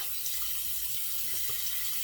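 A steady stream of tap water runs into a sink while a razor is rinsed, a soft continuous hiss at low level without talk.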